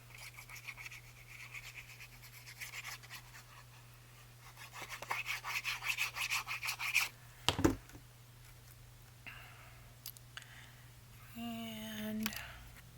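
An eraser rubs back and forth across paper on a patchwork journal cover, coming as faint, close, brisk scrubbing strokes in short bursts, with quiet handling sounds around them.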